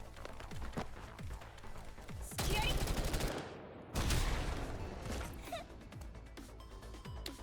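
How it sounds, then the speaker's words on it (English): Video game gunfire in bursts, with sharp single shots early on and then two dense stretches of rapid automatic fire, loud and close with a voice talking in between. "And now you, Grosa, come here and shoot this."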